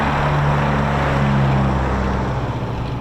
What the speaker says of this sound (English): Can you hear my engines on my short Stirling bomb, by the way?